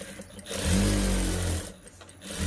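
A sewing machine stitches a blouse neckline, a steady mechanical whirring run that swells loud for about a second, then eases off and starts again near the end; no one speaks.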